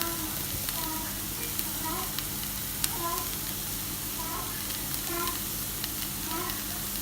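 Cumin seeds sizzle in a hot pan, a steady close-up hiss with faint crackles running through the whole stretch.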